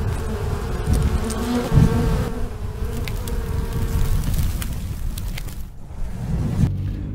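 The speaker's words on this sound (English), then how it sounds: "we're gonna install these two nucleus colonies of honeybees" Honeybees from two nucleus colonies drone in a steady, close buzz, with individual bees zipping past the microphone and some low outdoor rumble underneath.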